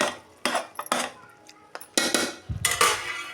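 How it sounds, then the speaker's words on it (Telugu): A lid set onto a metal pot of egg curry, making several close clanks and rattling metallic knocks with short pauses between them. "మూత అయితే పెట్టేసుకుందాం"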